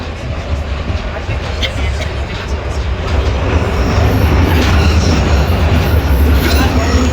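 A subway train in Scotland rumbles loudly along a bumpy track, a dense, steady roar of wheels and carriage noise that swells slightly midway, with passengers' voices buried in the din.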